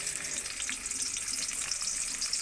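Chopped onion frying in hot oil in a wok, a steady dense hiss of sizzling that holds evenly throughout, close up and alone without any talk.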